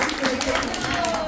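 Audience applause at a clown comedy show for a Mother's Day special, dense steady clapping throughout, moderately loud with some talk mixed in.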